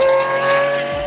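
A Pagani Huayra Revo Roadster with a V12 accelerates hard on a race track, a loud sustained high engine whine held close throughout the short burst.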